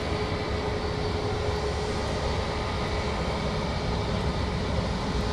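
Boeing 787 Dreamliner at Manchester Airport, its engines a steady broadband roar with a faint whine, continuous and fairly distant, with no talk.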